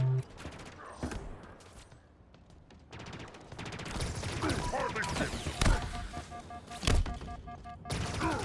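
Rapid bursts of automatic gunfire from Halo Infinite multiplayer crackle in clusters, with sharp loud single shots near the end and a quieter lull in between, under faint game ambience.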